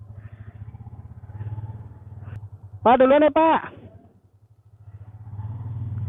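A Yamaha Vixion motorcycle putters along at riding speed with a low, throbbing engine rumble that swells and fades, while a man briefly calls out over it.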